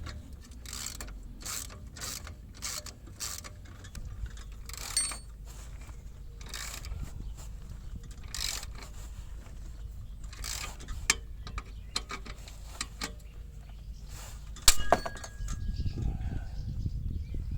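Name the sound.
tightening E36 exhaust muffler bolt until it snaps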